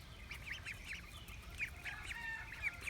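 Baby ducks on a mini farm peep in quick, high, repeated bursts, faint and scattered across a soft background hiss, with no voices.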